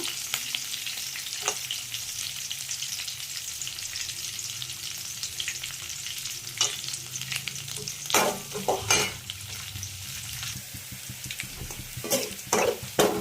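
Onion and cashews sautéing in a pan for a semiya breakfast dish: a steady close sizzle with repeated scraping stir strokes that grow busier and louder toward the end, no voices.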